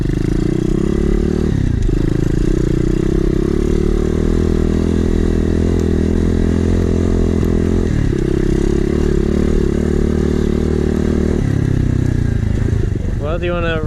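A cheap Amazon dirt bike engine idles loudly and close by with a steady buzzing drone, dipping briefly a couple of times before revving up at the end, while people talk over it.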